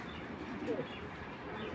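A racing pigeon gives a soft, brief coo close by, faint over a low background hiss.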